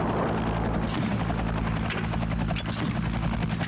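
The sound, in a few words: Mi-8 attack helicopter flying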